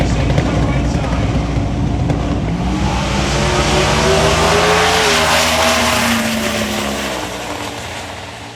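A 1980 Chevy LUV truck drag racing at TX2K roars loudly down the strip, its engine pitch climbing through gears before fading into the distance, with commentary voices underneath.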